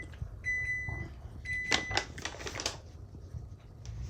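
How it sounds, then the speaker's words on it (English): An oven beeps with a few short tonal dings to signal it has preheated, followed by clattering and typewriter-like clicking in a kitchen. "That little dinging was letting us know that our oven is ready to go"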